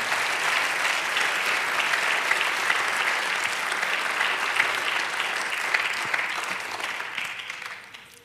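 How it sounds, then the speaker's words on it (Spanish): A church congregation breaks into sustained applause during a sermon, a dense, steady wash of many hands clapping that holds for several seconds and then fades out toward the end. "Dale aplauso al Señor"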